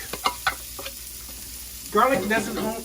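Garlic sautés in butter over high heat; a few stirring clatters come first, then a sudden loud, bright sizzle that stays close and steady, without speech.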